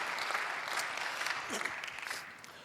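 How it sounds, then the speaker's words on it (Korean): Congregation applause for a church choir during a Sunday youth worship service, a steady wash of clapping that holds at moderate level for a few seconds before tapering slightly. "다시 한번 큰 박수로 우리 하나님과 우리 브릿지 콰이어에 감사드립니다."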